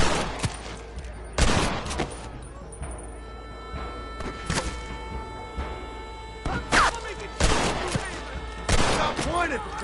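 Repeated gunshots from Red Dead Redemption, sharp blasts and short volleys cracking out every second or two over a low rumble of game ambience, with a voice talking between the shots.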